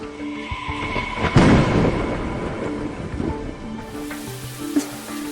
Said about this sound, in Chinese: 破天气，这回开始打雷了